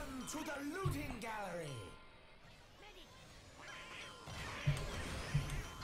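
Cartoonish duck quacks from Team Fortress 2's Halloween event, bumper-car mode, a burst of several near the start and two more toward the end, over continuous game noise and a talking player.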